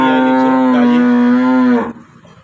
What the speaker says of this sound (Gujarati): આજે સત્યાવીસ તારીખની આપણી પાસે ત્રણ ગાયો છે